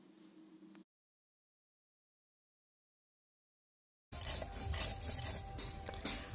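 Mustard seed, cumin, poppy seeds and dried red chillies ground into a paste on a village grinding stone; a harsh, steady rubbing scrape that fills the last two seconds after a brief quiet hum and a long silence.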